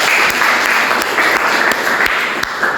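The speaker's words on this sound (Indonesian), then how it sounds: "tepuk tangan loh" Loud, close applause fills a classroom-style lecture session after a quiz contribution, dense continuous clapping with a few sharper individual claps standing out.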